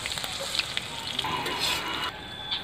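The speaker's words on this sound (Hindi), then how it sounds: "हरा मिर्चा डाल देती हूँ।" Green chillies tossed into hot mustard oil with garlic and asafoetida hiss and crackle in a short, busy burst, close up, with a bit of stirring.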